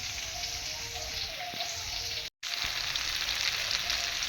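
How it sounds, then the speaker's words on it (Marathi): Vegetables sizzle and fry in a hot pan in a home kitchen, a steady loud crackling hiss that continues almost without a break, with only a momentary drop in the middle. "अशा प्रकारे वाजायची भाजी"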